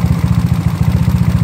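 A GY6 scooter engine idles steadily after running for a while, a loud, close, even mechanical putter with a fast regular pulse and no voices.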